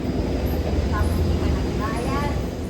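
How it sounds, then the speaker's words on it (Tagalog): A train pulls into a station with a steady low rumble and faint high squeals of wheels on rails, heard close and continuous over a few seconds under a busy background. "Yan na yung train namin ay."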